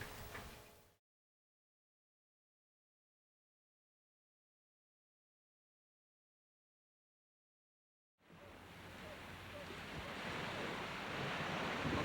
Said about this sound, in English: Saving Private Rodriguez, storming the beaches of Carpinteria.